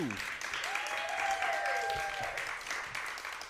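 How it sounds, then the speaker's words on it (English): Crowd cheering sound effect in a live radio adventure comedy, a broad wash of crowd noise heard at moderate level, with whistling tones sliding over it. "Suddenly, the crowd lets up a cheer as Wiley Post's plane comes into view."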